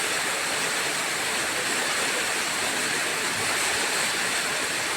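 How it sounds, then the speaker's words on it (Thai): Heavy rain pours down in a dense, unbroken roar, loud and constant throughout. "ตกแรงมากเลยทุกคน ดูฝนข้างหลังเลย"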